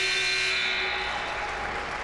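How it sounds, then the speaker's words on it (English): A basketball game buzzer at the Holiday Hoops tournament sounds a steady, sustained electronic tone over a constant gym crowd roar, marking the end of the third quarter. "the buzzer goes off for our end of the 3rd quarter"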